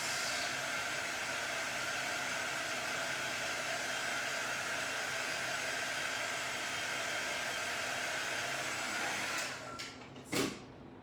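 A hair dryer or heat tool blows steadily on a chalk craft project, a loud continuous whoosh that runs for most of the stretch, then cuts off near the end, followed by a couple of brief knocks.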